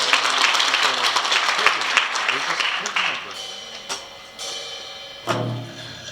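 Audience claps at a scholarship award ceremony in the large conference hall of the National Assembly Members' Office Building, a dense round of applause that tapers into scattered claps, with a short voice near the end.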